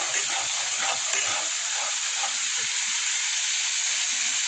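Paneer masala seasoned with turmeric fries in a pan, a steady loud sizzle and hiss that keeps going without a break, with faint stirring underneath and no voices.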